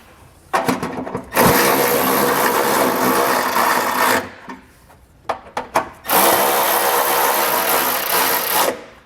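Snugging down trailer hitch receiver bolts on a 2021 Subaru Forester with a power tool: two long, loud buzzing runs of several seconds each, separated by brief clicks and short bursts, close up with no talking.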